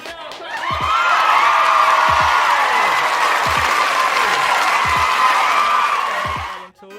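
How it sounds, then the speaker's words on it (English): An audience applauds a guest being welcomed onto a talk show, a loud, dense burst of clapping with whoops and cheers that holds steady for about six seconds before fading. "Y'all clap, y'all clap!"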